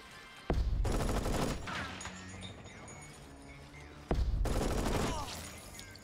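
Machine gun fire from the video game Jagged Alliance 3: two loud, dense bursts of rapid automatic shots, one near the start and one around the middle, each trailing into a ringing tail with faint clatter between them.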